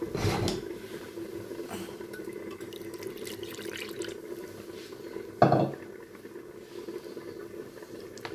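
Water pours briefly into a cooking pot for a cauliflower tajine, a soft splash at the start and another short gush midway over quiet kitchen background.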